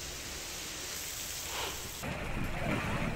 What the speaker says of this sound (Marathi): कोकणात पावसाचा जोर वाढला आहे